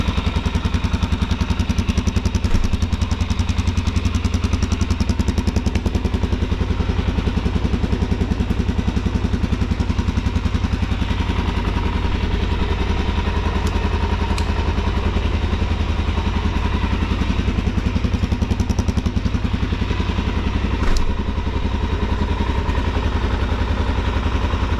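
A 2022 Suzuki DRZ 400SM motorcycle engine runs steadily throughout, a loud, close, continuous thumping drone with a constant clattery texture and no voices.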